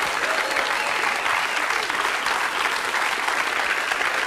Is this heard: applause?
yes